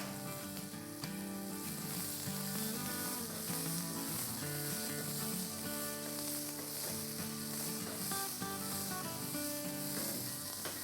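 Small red shallots fry in oil with mustard seeds for a snakehead fish curry, giving a steady, continuous sizzle throughout, fairly quiet and mixed with background music.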